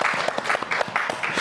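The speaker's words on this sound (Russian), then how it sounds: "Ваши аплодисменты." Audience applause at an evening crossword birthday event in Gomel, with a brief burst of steady clapping from a crowd.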